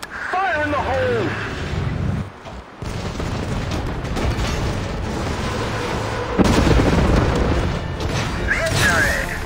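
Explosions and booming artillery-style blasts from the mobile war game Warpath, several heavy bursts spread through the stretch, mixed with game voices calling out over the din.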